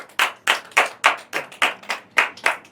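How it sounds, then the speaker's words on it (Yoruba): Audience at a Yoruba children's game show clapping in short, evenly spaced bursts, about nine quick rounds of applause, close and loud with no voices over them. "Ẹ pàtẹ́wọ́ fún wọn."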